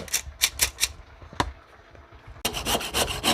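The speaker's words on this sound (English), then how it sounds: "she just a grate her nutmeg from scratch" Whole nutmeg grated by hand in a home kitchen while making Jamaican Easter bun: quick rasping scrapes in short bursts, then a denser run of strokes, close and without talk.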